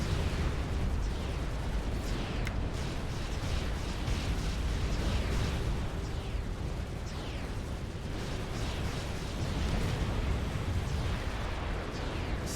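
Mongoose units firing artillery in a Supreme Commander Forged Alliance Forever battle on Hrungdaks Canyon, a dense continuous roar of overlapping blasts and bursts sustained throughout with no pauses.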